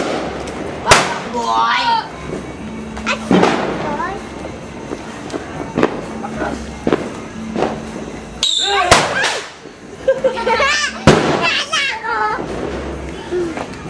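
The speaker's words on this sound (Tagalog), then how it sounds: "pasabugin nyo lang ng pasabog" New Year's Eve firecrackers and fireworks bursting at a family party in Obando, with several sharp loud bangs scattered among excited children and adults shouting and talking nearby.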